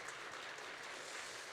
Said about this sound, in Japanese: 교회의 주인 되신 하나님께 박수로 영광을 돌립시다.